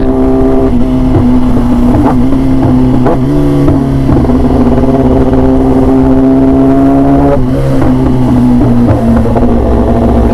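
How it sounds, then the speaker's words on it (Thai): A Kawasaki ZX-10R superbike engine roars loud and close, its revs shifting in distinct steps as it runs through the gears, with no speech over the engine. "รถผมเหยียบชิปดาวแล้วเสียงอย่างนี้จริงๆนะครับผม"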